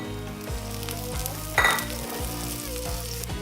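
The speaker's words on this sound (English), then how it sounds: "the onions, we just need to soften them quite quickly, and then we're going to put some peas in" Softened onions and peas fry in a pan with a steady close sizzle, a brief louder crackle partway through as ingredients are stirred.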